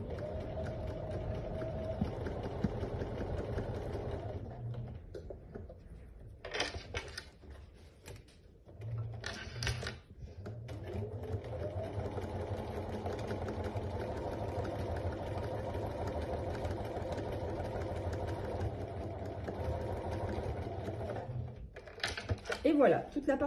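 A sewing machine stitches the fabric of a dry hot-water bottle in long mechanical runs, its motor whirring and clattering, pausing briefly twice and starting again near the end. Faint talk can be heard at times.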